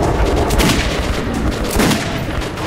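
Metro 2033 Redux gunfire: two or three loud, close shots crack in quick succession, each with a short booming tail.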